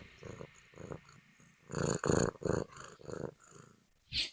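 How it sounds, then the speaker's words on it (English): A cat purrs close to the microphone in rhythmic rumbling bursts, alternating with quiet breaths between them. The purr grows louder midway, and a sharp bump is heard at the end. "My cat is purring very much. Let me see if you can hear it."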